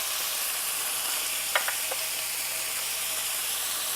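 Cod pieces frying in a pan give a steady, even sizzle with a few faint clicks of stirring partway through, close and continuous.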